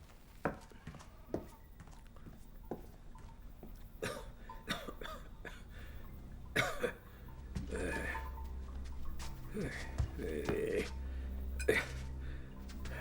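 A person coughs several times in scattered bursts, then a longer harsher run of coughing and throat noises toward the end, fairly close.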